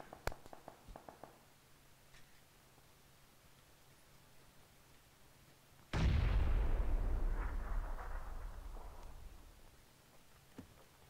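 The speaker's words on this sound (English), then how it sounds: "I'm just going to throw a grenade in your direction." A grenade explodes in a video game: a single loud, close boom about midway bursts out and then rolls off into a rumbling decay lasting a few seconds, set against a quiet stretch with faint clicks before and after.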